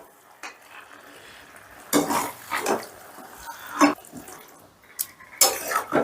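Chicken being stirred and mixed with spices and yogurt in a pan on a low flame, heard as a run of scraping, clattering utensil strokes in irregular bursts, close up, with no talking.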